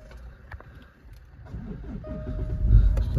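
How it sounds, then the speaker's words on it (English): A Jaguar XF 2.2d diesel Sportbrake with automatic transmission starts up: a quiet moment, then a low engine rumble builds and settles into a close idle. "Just start the car up."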